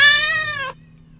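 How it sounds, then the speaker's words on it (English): A single kitten meow, clear and close, plays from a Windows Phone app, lasting under a second before silence. "I heard a cat kitten."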